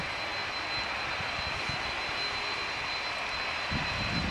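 A business jet engine roars steadily from a distance at Manchester Airport, a continuous broad whoosh with a faint high whine and no voices.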